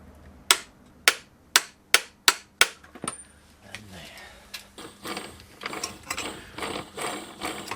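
A ratchet wrench tightens a gearbox nut on a Classic Mini to 150 foot-pounds. Six sharp, evenly spaced clicks come close by, followed by softer, quicker clicking and mechanical rattling.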